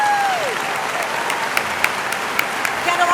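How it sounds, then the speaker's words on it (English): Steady, loud applause from a dinner audience for student performers at an education awards event, continuous clapping with a voice briefly heard over it at the start. "Let's give them a big round of applause."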